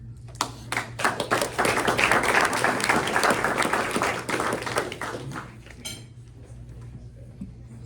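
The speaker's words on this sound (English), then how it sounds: "one more round of applause for both our awardees" Sustained applause from a luncheon audience honoring two awardees, loud dense clapping with some dish and cutlery clinks, swelling then thinning out over several seconds.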